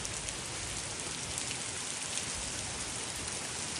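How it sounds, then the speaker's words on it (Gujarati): Light, steady rain patters evenly on a rooftop terrace garden, a constant soft hiss with no voices or other sounds. "વરસાદ એ ધીરો ધીરો થતો ફૂલ ચાલુ છે"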